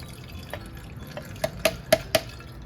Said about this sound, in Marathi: आता आपण वाटून घेतलेले ते ओतायचं त्याच्यावर